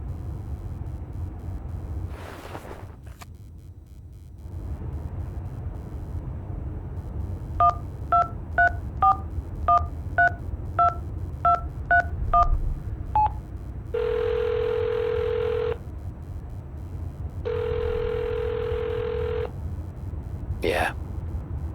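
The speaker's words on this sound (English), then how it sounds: "Dial the number." A telephone number dialed in Hitchhiker: A Mystery Game: a run of about ten evenly spaced keypad tones, then two long ringing tones over a low engine-like hum.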